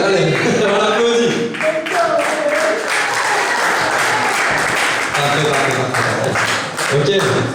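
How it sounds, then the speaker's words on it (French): An audience applauds throughout at a live stage-hypnosis show, the clapping loud, close and sustained, with voices mixed in. "allez, on applaudit."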